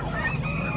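Turkeys at a poultry market in Bocaue give a brief, close burst of throaty gobbling calls over busy market background.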